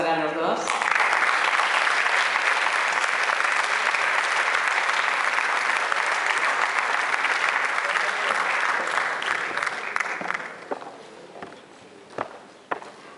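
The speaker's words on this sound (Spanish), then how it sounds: "Un aplauso para los dos." Audience applause at an awards ceremony during a Latin cultural festival in the Mediterranean, sustained dense clapping for about ten seconds that then thins out into a few scattered claps and crowd movement.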